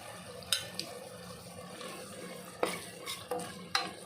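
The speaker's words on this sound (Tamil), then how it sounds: "நல்லா ஒரு நிமிஷம் நல்லா வதக்கி விட்டுட்டு" Tomatoes sauté with chili powder and sambar powder for kadalai paruppu sambar, a soft, low sizzle under several clear scrapes and taps of a ladle stirring in the pan, close and quiet, with no talking.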